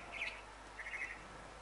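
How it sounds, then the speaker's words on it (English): A bird in the game What Remains of Edith Finch gives two short, bright chirping bursts a little apart, thin and clear over a quiet background hum, with no talk. "Wo ist der blöde Vogel?"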